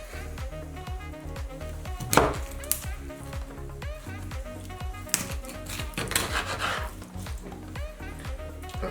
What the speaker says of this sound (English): So get the knife right through it.